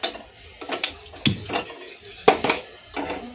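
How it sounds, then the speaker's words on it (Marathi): A pressure cooker is set on a gas stove to heat for pulao, making a few distinct metallic clanks and knocks at uneven intervals, close and fairly quiet. "हे कुकर मी गरम करायला ठेवते गॅसवर।"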